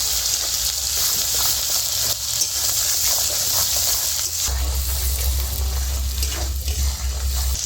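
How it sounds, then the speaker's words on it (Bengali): Water pours steadily into a pan of Bengali fish curry with sitapati fish and eggplant, a continuous close hiss and splash that deepens partway through as the liquid builds up. "এইবারে দিয়ে দেবো পরিমাণ মতো জল"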